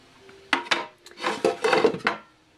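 A tea tin from Comptoir de Famille is handled close up, giving a few sharp metallic clacks and then a longer scraping, rattling stretch as the lid and box move.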